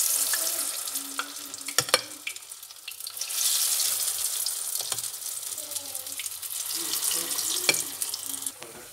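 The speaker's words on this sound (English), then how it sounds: "So we start frying." Oil sizzles and crackles steadily as bean fritters (akara) fry in a pan, with occasional sharp clicks and utensil taps over the constant frying hiss.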